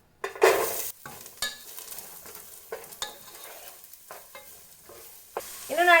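Finely chopped onions hit hot coconut oil in a pan with a loud burst of sizzling, then settle into a steady fry punctuated by several stirring scrapes and clinks, with another flare of sizzle at the end.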